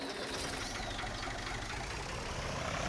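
Small vintage tractor engine in Farming Simulator 19, a steady low idling chug with a knocking rhythm, continuous and fairly loud with no talk.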